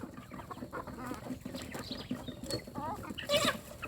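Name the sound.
young farm chickens, two to two and a half months old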